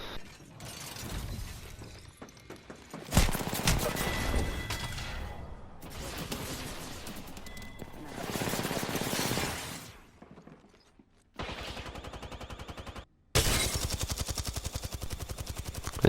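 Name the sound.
gunfire from a weapon in Apex Legends video game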